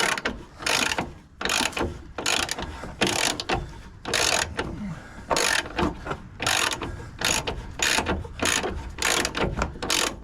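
Hand ratchet clicking in repeated bursts while undoing a bolt on a VY ute swingarm, close and fairly loud, steady back-and-forth strokes with brief pauses between runs.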